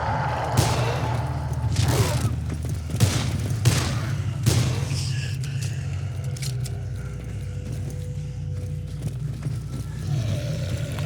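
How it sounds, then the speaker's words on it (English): Gunshots in the zombie action game Dead Island: Riptide: a handful of sharp, well-spaced shots over a steady rumbling game background, the firing fading into ambience partway through. "there's some fail shooting right there"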